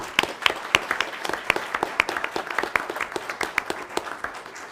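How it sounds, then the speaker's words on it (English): A school board meeting audience applauds students, a smallish group producing distinct, fairly sparse claps with individual hand strikes audible in an uneven rhythm, moderately close and without talk. "Can we give them a round of applause?"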